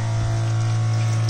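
Hot water runs from a gas water heater in a campervan, a steady gushing flow over a constant low pump-like hum, close and continuous for the short stretch.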